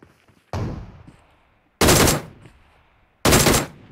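Three loud, close gunfire bursts in PUBG Mobile, each a sudden heavy blast that trails off, spaced about a second and a half apart, with near silence between them.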